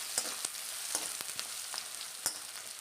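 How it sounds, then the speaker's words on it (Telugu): Oil sizzles steadily as a tempering of mustard seeds, cumin, curry leaves, dried and green chilies and onion fries in a pan for a ridge gourd curry, with a few sharp crackles and stirring taps standing out close by. "ఉల్లిగడ్డ వేసి మిక్స్ చేస్తున్నాం"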